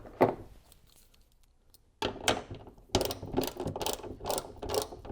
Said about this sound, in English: Then tighten the bolt back down.